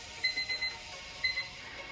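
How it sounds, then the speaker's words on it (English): A workout interval timer alarm sounds faintly in a HIIT session, two short bursts of rapid electronic beeping about a second apart over a quiet room background. "There's that timer."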